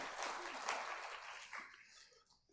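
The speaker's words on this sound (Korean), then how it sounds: "한 번 더 우리 감사박수 보내드립니다." A Korean church congregation claps in thanks after a Bible reading during a Sunday service. The clapping is soft and distant, a steady wash of noise that fades out toward the end.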